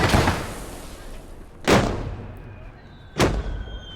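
Two mortar blasts ring out in the Kelly's Heroes video game, spaced about a second and a half apart. Each is a sharp broadband thump that fades into a rumbling tail, following a louder burst at the start.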